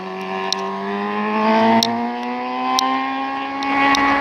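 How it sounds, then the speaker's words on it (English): A loud, droning motorbike engine revs continuously near the East Croydon station rebuild, its buzzing pitch climbing and dipping slightly over several seconds. "I'm sorry about that noise, that motorbike up there going mad."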